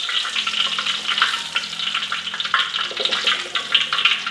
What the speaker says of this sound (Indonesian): Ini gorengan pertama ayam kita kayaknya ini udah masak nih.